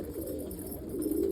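An almond crested pigeon hen coos softly and close by, a low rolling murmur held steadily through the moment with no voices present.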